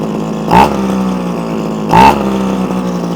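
Komatsu Zenoah strimmer engine idling steadily close by, a small two-stroke drone with two brief sharp revs blipping up and dropping back about a second and a half apart.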